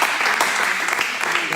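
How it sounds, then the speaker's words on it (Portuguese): A church congregation applauding during a celebration service, dense continuous clapping from many hands filling the room, loud and even throughout. "Vamos aplaudir o Senhor pela vida dessa família"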